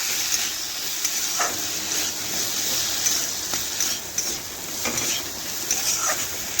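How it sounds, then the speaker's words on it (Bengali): Spiced potatoes frying in a pan while being stirred: a continuous loud sizzle with scraping strokes from the stirring, close and steady throughout, with no voices. "এখন সমস্ত উপকরণ একসাথে আবারও মিশিয়ে মশলা আলু ভালোভাবে একটু ভেজে নিচ্ছি"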